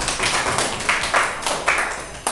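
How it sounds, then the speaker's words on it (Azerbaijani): A children's team at a geography quiz contest applauds in a short burst of dense, bright clapping, close and steady, with several louder accents through the burst. "Alqışlar."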